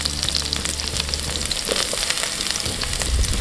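Onions fry in oil in a non-stick pan for pork adobo, a steady, close, dense crackling sizzle that runs without a break, with no voices over it.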